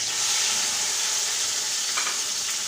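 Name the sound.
garlic ginger paste sizzling in hot oil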